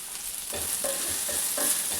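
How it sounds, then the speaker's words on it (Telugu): Onions frying in a pan give a steady close sizzle, broken by several rhythmic scraping stirs of a utensil against the cookware, with no talking. "ఆనియన్స్ కూడా కొంచెం ఫ్రై అయ్యాయి కదా"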